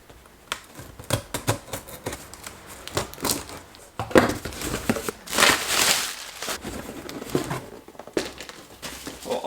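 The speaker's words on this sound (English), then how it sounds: "Let's crack open the boxes and see what we have" Cardboard parcel boxes of Mazda Miata parts are torn and cut open up close, with scattered tape rips, crinkles and papery rustling in irregular bursts, louder in the middle, with no talking.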